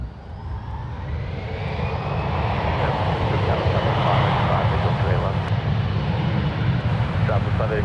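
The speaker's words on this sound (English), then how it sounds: "Now on 1 left, we have Alaska Horizon Flight 2283 departing to Palm Springs in the Honoring Those Who Serve livery." Alaska Horizon jet departing from a San Francisco International Airport runway, a jet engine roar that builds gradually and holds steady, moderately loud, with a voice talking over it.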